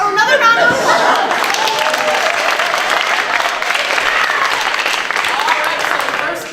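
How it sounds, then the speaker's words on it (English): An audience at a university improv comedy showcase gives a lively round of applause, with continuous clapping mixed with crowd chatter and a few chuckles, and a voice speaking near the start. "So give us another round of applause."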